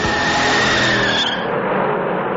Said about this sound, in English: And when you stepped on the gas, you knew where the name Charger came from.